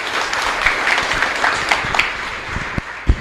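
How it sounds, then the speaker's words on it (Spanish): Congregation applauding at a live Mass in the Capilla Santísima Cruz, Ñemby, with a steady wash of clapping from a crowd and a few sharper claps and thumps near the end, no voices on top. "Fuerte aplauso para nuestra comunidad"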